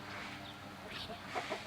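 Chickens of several breeds cluck in a farmyard, soft scattered calls rising over a steady low background, fairly close and moderately quiet with a couple of sharper notes near the end.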